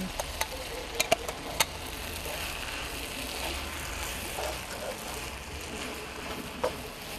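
Rice and curry stirred in a pan with potatoes, spinach and pumpkin, a soft steady sizzle with a few sharp clicks of the utensil near the start and again near the end.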